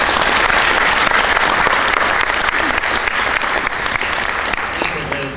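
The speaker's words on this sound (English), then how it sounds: "Give him a round of applause," Audience applause greets a speaker being introduced at an event, a dense, sustained wash of clapping that fills the whole stretch at steady loudness before easing slightly near the end.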